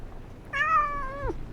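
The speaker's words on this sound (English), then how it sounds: "You go meow." A house cat gives a single clear, drawn-out meow, close and fairly loud, rising slightly and then falling off at the end, with no talking over it.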